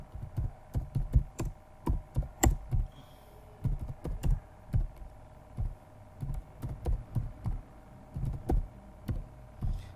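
Typing on a computer keyboard fills the background with quick, uneven bursts of soft key taps that come close together, fairly quiet and with no talking over them.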